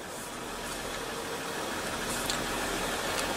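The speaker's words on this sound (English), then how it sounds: "Just put your foot on the brake, hit the button to start" A 2015 Jeep Grand Cherokee idles with a steady, even engine rumble and broadband hiss, constant and moderately close, with no distinct start-up surge audible.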